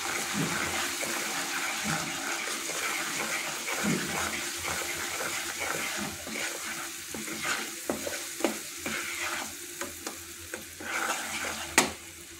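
A spoon stirs cashew masala sizzling in a pan, with continuous close frying hiss and irregular scraping clicks that grow sharper toward the end.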